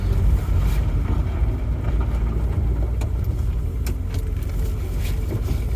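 An MG Midget engine idles at about 1,500 revs, a steady low rumble heard close and fairly loud throughout with a few small knocks and rattles over it.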